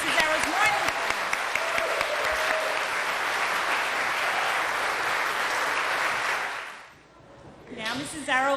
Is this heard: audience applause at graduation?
yes